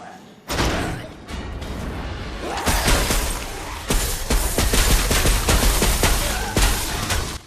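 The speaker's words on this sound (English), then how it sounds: "taking a snow cone maker and fitting it with technology gives you the ice chain gun" Rapid bursts from the ice chain gun in Dead Rising 4, a snow cone maker rigged with technology, firing loud repeated shots and thuds that run almost continuously after a brief quiet start, with no talk over them.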